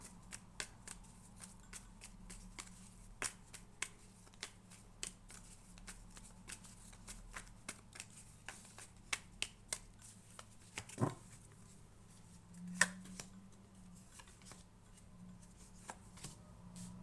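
Playing cards are shuffled and flicked repeatedly, giving quick papery snaps in an irregular rhythm over a low background hum.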